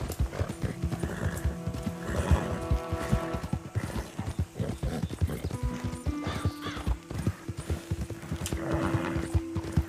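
Horse hooves clip-clopping steadily with whinnies in Red Dead Redemption 2 Online, mixed with game music and ambient sounds, loud and continuous across the scene.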